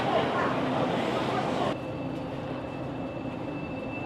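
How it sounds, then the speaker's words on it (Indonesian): A train at a station on the route to Vientiane, Laos, gives a steady rumbling hum with a sustained whine, loud and then abruptly quieter, while a person talks over it. "Jadi ini dia keretanya"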